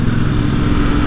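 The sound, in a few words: motorcycles passing on a mountain road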